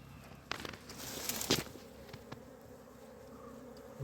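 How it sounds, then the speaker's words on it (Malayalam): Faint, steady buzzing of many honey bees close by as they are moved from the ground into a hive box, with occasional soft clicks and rustles, no talking. "തേനീച്ച കയറി പോകുന്നുണ്ടോ"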